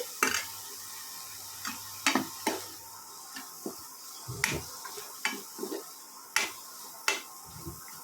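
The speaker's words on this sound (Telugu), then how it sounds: "ఇలా వేసి ఇలా చక్కగా కలుపుకోవాలి" Chopped coriander is stirred into a country-chicken egg fry in a pan, with scattered sharp clinks and scrapes of the utensil against the pan over a faint sizzle and no one talking.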